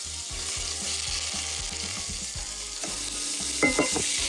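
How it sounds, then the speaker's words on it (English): Chicken wings browning in an overheated pan give off a loud, steady sizzle and spatter, with low rhythmic thumps early on and a few sharp scraping clinks near the end. "All right, so we're gonna brown them and then we're gonna set them aside."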